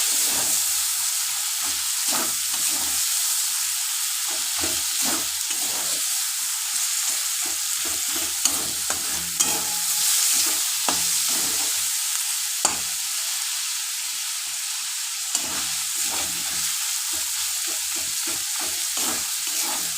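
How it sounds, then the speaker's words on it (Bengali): Ginger-garlic paste and chopped onion frying in oil in a pan, a continuous crackling sizzle with intermittent spoon scrapes and stirring knocks, close and steady with no speech. "একসাথে 1 চামচ করে আদা রসুন বাটা দিয়ে দিলাম।"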